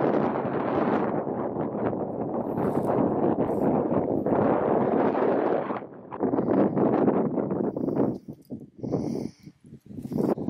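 Strong gusting wind buffeting the microphone while camping outdoors at Stanage Edge, a loud roaring rumble that surges and drops away in bursts near the end.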